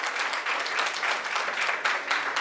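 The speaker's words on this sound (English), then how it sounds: "let's have a big round of applause for the national award-winning director" Applause from an audience greeting a national award-winning director at an event, a steady wash of many hands clapping close and loud for a couple of seconds, no talking over it.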